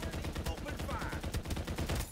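Rapid automatic gunfire bursts crackle close and loud in the Farlight 84 video game, in a quick steady rhythm with a voice faintly underneath.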